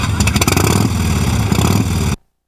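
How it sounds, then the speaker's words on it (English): A deep, rumbling Harley-Davidson motorcycle engine roars steadily at close range for about two seconds, then cuts off abruptly into silence. "there's only one thing that sounds better than a Harley, and that's two Harleys. Has a great roar."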